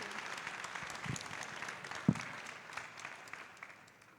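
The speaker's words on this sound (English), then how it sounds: "I think another round of applause for the Deputy Secretary General." An audience at a speaker-series lecture gives a round of applause for the Deputy Secretary General Amina J. Mohammed, a faint steady patter of many hands in a large room, with a couple of louder knocks.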